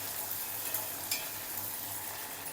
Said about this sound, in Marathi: 2-3 सुक्या मिरच्या, लसण ठेचून घेतलेला आहे मी, कापलेल्या हिरव्या मिरच्या, कढीपत्ता परतून घ्यायचं.